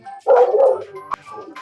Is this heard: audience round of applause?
no